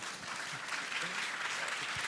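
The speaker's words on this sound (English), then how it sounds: "Get round of applause for these wonderful prototypers" Steady applause from an audience cheering a team of hardware prototypers at a business panel, dense clapping holding evenly for the whole stretch with a few faint voices mixed in.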